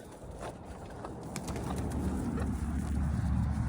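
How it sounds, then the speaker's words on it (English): Pigeons or doves coo softly outdoors near a water trough in icy weather, a few low calls over a rising background rumble. "Hey, birds."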